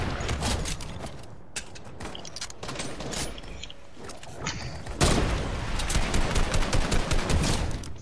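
Rapid bursts of gunfire in a shooter video game's team rumble mode, dense automatic volleys that jump louder midway through and keep rattling to the end.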